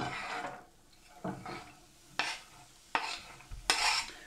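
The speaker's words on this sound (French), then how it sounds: "dans la poêle ici, j'ai mis un petit peu d'huile, d'accord. Et je viens déposer donc mes oignons" Onions go into a little oil in a frying pan, bringing quiet, broken bursts of sizzling and several sharp clatters of a utensil against the pan, close by.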